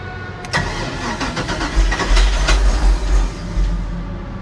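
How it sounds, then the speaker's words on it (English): Port engine of a 1988 Formula 357 SR1 boat cranks and fires, the big marine motor catching after a brief starter churn and settling into a loud, rumbling idle with uneven low pulses close to the microphone. "All right, now this is the port engine."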